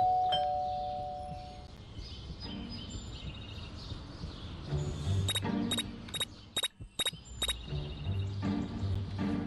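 A doorbell rung inside the video game Scary Teacher, with a cluster of sharp, repeated bright tones around the middle of the clip over a busy game background, with no voices.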